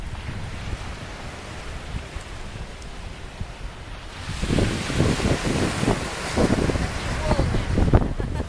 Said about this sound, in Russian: идем к Средиземному морю